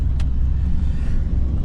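A car drives along a road through Austria, its steady low engine and tyre rumble loud and continuous with a brief higher whoosh near the start.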